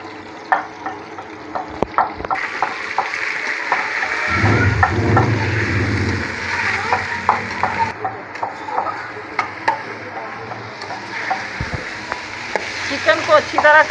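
Chicken pieces fry in a pan for a pumpkin and meat curry, a continuous close sizzle with frequent scraping stirs and clinks of the spoon against the pan.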